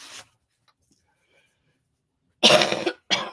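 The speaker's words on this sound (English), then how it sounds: "Cover your mouth when you cough." Two loud, close coughs break the quiet, a longer harsh burst followed by a shorter one, after a brief sound at the very start.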